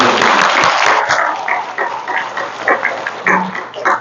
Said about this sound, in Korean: 하나님 앞에 큰 영광의 박수로 우리 먼저 박수 드립니다